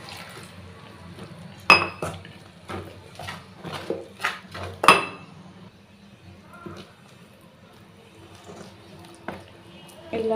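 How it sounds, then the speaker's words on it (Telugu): Pakoda batter being mixed in a bowl while water is poured in, with sporadic sharp clinks of utensil against bowl and soft wet splashes over a quiet room. "ఇప్పుడు దీన్ని మనం మెల్లిగా కొన్ని వాటర్ పోసుకుంటూ కలుపుకోవాలి."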